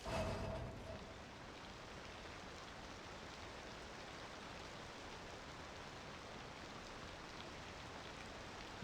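Steady rainfall in the city-building game Cities: Skylines 2, an even hiss of rain that holds constant throughout after a slightly louder opening moment, with no talk.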